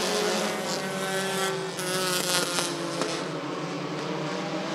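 Bandit feature race cars at Rockford Speedway roar away on the green flag, a loud, dense engine drone with pitch sweeps as the field accelerates.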